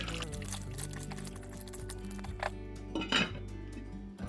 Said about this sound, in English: So just give that a bit of a stir up.